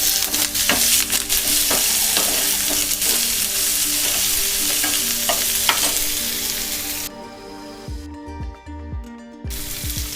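Curry leaves and chopped onions fry in hot oil, a steady close sizzle with scattered stirring scrapes and clinks; the sizzle drops out near the end, leaving low knocks and clatter.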